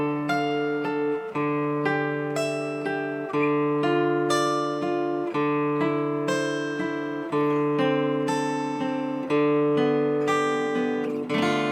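Guitar chord progression picked over a pedal tone that keeps ringing underneath, the chords changing in an even rhythm with each new strum on top of the sustained note, played up close and alone with no talking.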